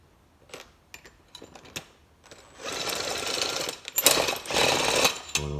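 A ratchet turning a nut welded onto the end of a Bessey clamp gives rapid close clicking bursts, first sparse and spaced, then building into dense, louder runs of ratcheting.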